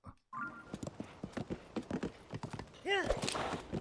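Horse hooves clip-clop in a steady rhythm in Zelda: Tears of the Kingdom, a run of close, even steps with talk over them and a brief rising game chime near the end.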